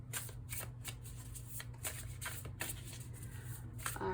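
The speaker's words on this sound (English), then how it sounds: "not so much cards popping out as bad shuffling" Tarot cards are shuffled by hand in a quick, repeated riffling rhythm, soft and close, with a series of crisp bursts of card noise.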